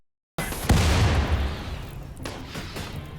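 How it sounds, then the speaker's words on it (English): Explosions and turret gunfire in the video game RimWorld break out in a sudden loud boom, then rumble on in dense, crackling bursts with a few sharper cracks, steady and close. "Okay, getting some explosions."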